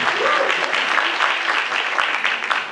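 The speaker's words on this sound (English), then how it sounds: "Alright, everybody get clapping." Steady, dense applause from a convention panel audience at New York Comic Con, sustained and loud throughout with no pauses, the whole crowd clapping together at close range.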